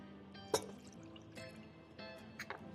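Campari, about 1.5 ounces, poured into a glass for an Americano cocktail: a quiet, short trickle with a small clink near the start and soft splashes.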